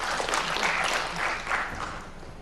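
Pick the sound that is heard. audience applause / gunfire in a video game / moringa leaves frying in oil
audience applause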